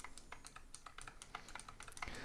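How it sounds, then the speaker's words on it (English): Rapid clicky keystrokes on a Razer Huntsman Mini keyboard with purple optical switches, played in a gaming pattern on the WSAD keys and spacebar, with dense, fairly even taps and no voice. "So I grabbed the Razer Huntsman Mini with its purple optical switches, which is one of the clickiest keyboards I have here."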